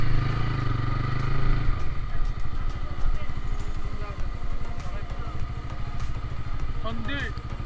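A motorcycle engine runs on a steep mountain road near Naikhongchari, Bandarban, a steady close mechanical drone with a louder low rumble at the start, continuing with clatter throughout.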